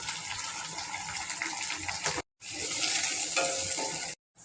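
Tomatoes and curry leaves frying with onions in a pan, giving a loud, continuous close sizzle with stirring scrapes, broken by two brief silent cuts.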